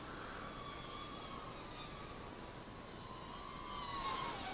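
A Hubsan H111c Nano Q4 Plus quadcopter drone flies nearby, its tiny motors giving a steady high buzzing whine that holds throughout and swells slightly near the end.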